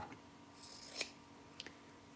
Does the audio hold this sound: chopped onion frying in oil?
no